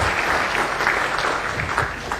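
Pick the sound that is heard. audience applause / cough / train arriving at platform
audience applause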